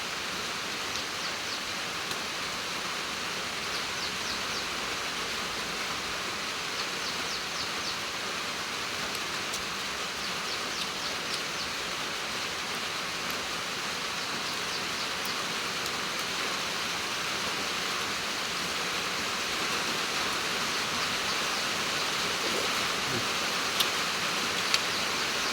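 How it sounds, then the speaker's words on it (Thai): Steady rain, a continuous broadband hiss with faint ticking patter held at an even level throughout, with no distinct thunder rumble standing out. "ได้ยินเสียงฟ้าเสียงฝนฮ้องมาพี่น้อง"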